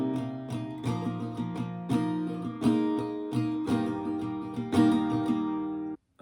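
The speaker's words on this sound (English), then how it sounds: "And line 2 would sound like this." Acoustic guitar strumming line 2 of the break from a song (live version), close and alone, with steady rhythmic chord strokes that ring on before stopping just before the end.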